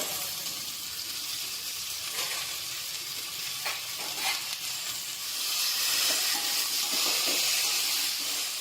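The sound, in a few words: ginger and tomato frying in pan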